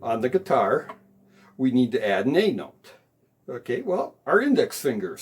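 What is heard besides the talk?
No distinct noise like a dog, phone or traffic.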